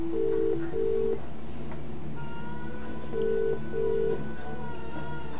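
Telephone dialing tones in the video game The Dream Machine, a few short beeping tone pairs in two quick bursts separated by a pause, clear and close.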